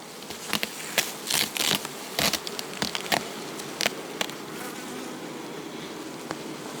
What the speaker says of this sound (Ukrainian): бджола забігає у сім'ї ось так